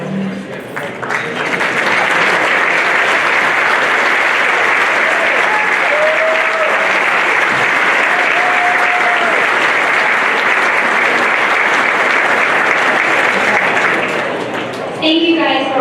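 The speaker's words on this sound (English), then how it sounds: "Would all Hall of Famers please stand for a round of applause?" Sustained audience applause at a National Softball Hall of Fame induction ceremony as the Hall of Famers stand, steady and full for the whole stretch, with a brief voice near the end.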